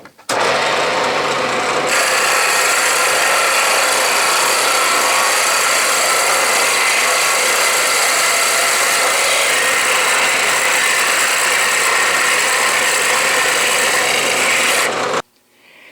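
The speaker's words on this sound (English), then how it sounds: "I'm boring all the way through the aluminum and down into the wood to the bottom of that big hole" A Bridgeport milling machine at high speed bores through aluminum down into wood, producing a loud, continuous rasping cut that starts abruptly, holds steady for about thirteen seconds, then stops.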